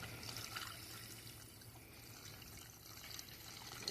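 Washer fluid poured into the reservoir of a 2008 Nissan Xterra, a steady faint liquid trickle and splash continuing throughout with no talk.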